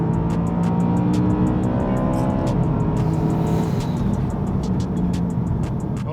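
A BMW M3 sedan accelerating hard, its engine note climbing in steady harmonics through the gears, loud and close as if heard from inside the cabin, with no talking over it.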